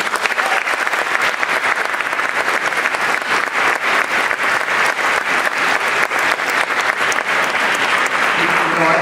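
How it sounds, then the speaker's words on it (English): Sustained audience applause after a youth orchestra concert performance, loud and dense clapping filling the hall steadily without a break. "Let's give them a round of applause."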